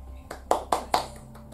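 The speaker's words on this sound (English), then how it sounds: "clap" Three sharp hand claps in quick succession, close and fairly loud, preceded by a few softer taps, with no talking.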